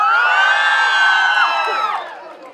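A crowd at the La Jabonera jaripeo rodeo in 2023 roars with loud cheering, whoops and high shouts, a sustained wall of voices that tapers off toward the end.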